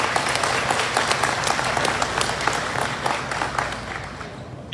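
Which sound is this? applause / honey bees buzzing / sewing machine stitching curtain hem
applause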